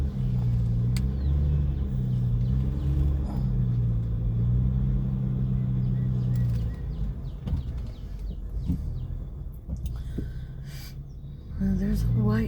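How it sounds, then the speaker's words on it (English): A car's engine rumbles steadily while it slowly reverses along a road through an open area. The rumble drops a little in the second half and rises again near the end, with a person talking over it much of the time. "I don't see anywhere to turn around, so I guess I'm just backing up"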